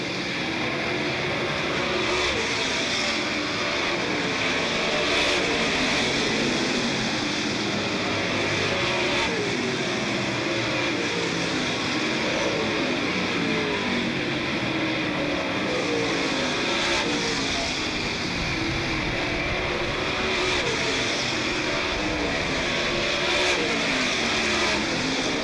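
Super late model race cars roar around Smoky Mountain Raceway late in a 41-lap feature race, a loud, continuous wall of engine noise with passing cars swelling and fading throughout.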